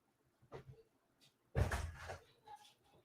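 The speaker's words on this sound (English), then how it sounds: "Oh, it might have been front door I heard." A front door opens or closes indoors with a soft initial knock followed by a louder thud and rattle, then faint handling sounds, heard from a short distance in an otherwise quiet room.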